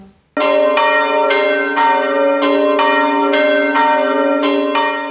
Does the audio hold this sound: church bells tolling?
yes